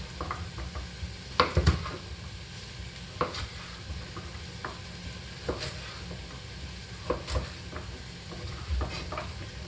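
Onions, garlic and carrots cook in a pan for butternut soup, giving a steady low sizzle broken by several sharp scrapes and clatters as the vegetables are stirred, close and fairly quiet.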